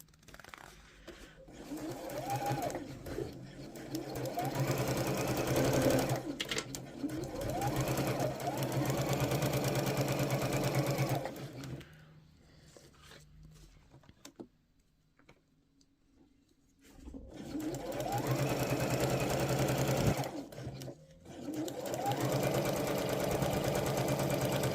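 A sewing machine stitches the lining of a beach bag, its steady mechanical whir running in long bursts with brief pauses and a backstitch, close and fairly loud, with occasional quiet talk.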